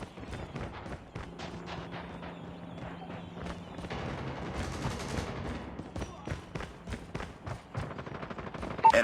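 Rapid LMG bursts and pistol shots in the mobile shooter COD Mobile, a dense run of sharp cracks with a few brief pauses between them, loud and close, with in-game announcer callouts mixed in.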